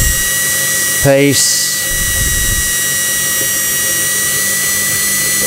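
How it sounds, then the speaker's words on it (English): A power drill runs steadily at a slow, constant speed while boring into steel for a climbing-stick modification, a continuous whine under a brief spoken word. "And when you're drilling in steel, you don't want to go fast."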